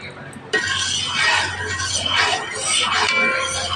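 Ginger being stirred in a pan for Filipino pickled ginger, with a continuous scraping, clinking utensil sound against cookware that starts abruptly and carries on steadily up close.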